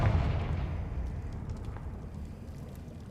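A Confringo spell explosion in Hogwarts Legacy: a booming blast at the start that fades into a long, rumbling decay with faint crackles trailing off.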